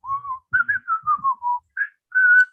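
Someone whistles a song close up: a run of clear, wavering notes in short phrases, with soft breathy sounds between them and nothing else behind.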